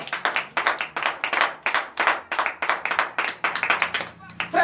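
A church congregation at a morning prayer service in Benin claps in lively rhythmic acclamation, many hands beating close and fast, with voices calling out over the clapping.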